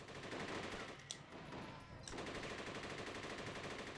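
Sustained video game gunfire from a shootout in Rise to Honor, dense and continuous at low volume, with two sharper bursts standing out briefly within the rattle.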